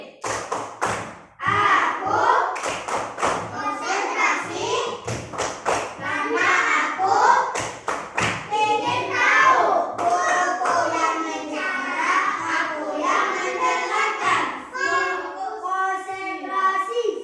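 A fourth-grade classroom does a rhythmic concentration clap, groups of sharp claps in a repeating pattern woven between long stretches of the children chanting together, close and lively.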